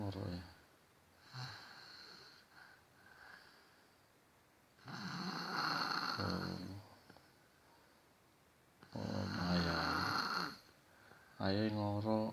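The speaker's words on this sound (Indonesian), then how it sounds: "Jare gak ngorok, lah kok ngorok" A young child snores in sleep with a slow rhythm of three or four raspy, rattling snores separated by quiet pauses, the later ones longer and louder, and a soft voice speaks at the end.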